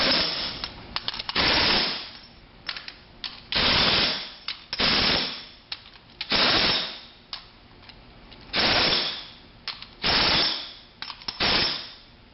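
Nuts being run down on a T8045 pump power end with a rapid-fire ratcheting or impact tool, sounding in repeated loud bursts of about a second each, separated by short pauses.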